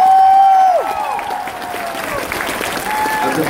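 Audience applause fills a comic con panel room, a steady crowd clapping and cheering that runs throughout under a presenter's voice on the mic, which stays prominent at the start.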